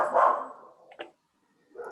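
A dog barks over a phone line during a commission meeting: one louder bark, then two short, fainter yips separated by brief silences.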